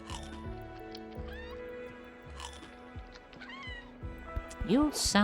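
A small creature in the video game Core Keeper gives several bright, rising meows and whinny-like calls, close and clear over steady game music, ending in a louder burst, while a voice talks throughout.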